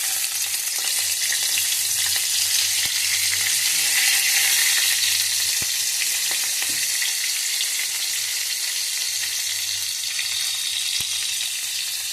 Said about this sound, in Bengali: এখানে একে একে যে ফোড়নগুলো দেখালাম তোমাদের সেগুলো আমি কড়ার মধ্যে দিয়ে দেবো